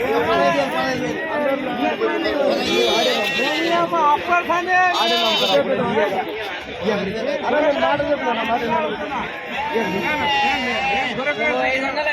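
Rams and sheep bleat amid a busy livestock market in Pebbair, their calls mixed into constant crowd chatter and nearby voices that talk over them throughout.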